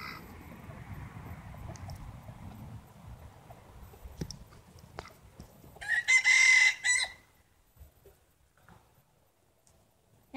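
A rooster on a homestead gives one loud, bright crow partway through, preceded by soft rustling and faint clucks, with quiet outdoor background afterward.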